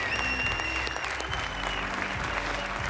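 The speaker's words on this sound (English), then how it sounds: "Let's give one more round of applause for Kevin Young." A crowd applauds at a press conference welcoming a new BYU men's basketball head coach, with steady, dense clapping that stays loud for the whole short stretch.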